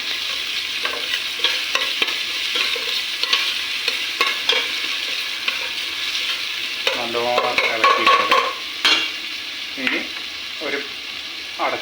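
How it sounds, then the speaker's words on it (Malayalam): Ginger, garlic and onions stir-fried in a pan for a sardine curry, with a bright continuous sizzle and frequent close clacks and scrapes of the spoon against the pan, loud and near, with no speech. "ഇഞ്ചി വെളുത്തുള്ളി ഇട്ട് കൊടുക്കുക എന്നിട്ട് നല്ലോണം ഇളക്കി കൊടുക്കുക"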